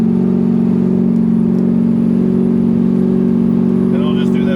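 Inside an LBZ Duramax diesel truck, a steady loud engine drone and turbo whine cycle up and down in boost, running continuously under faint cabin noise.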